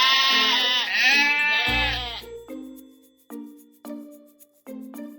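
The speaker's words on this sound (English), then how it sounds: "5 sheep" A sheep bleats loudly in a long wavering cry that falls away, followed by a few shorter tonal bleats spaced apart, alone and close.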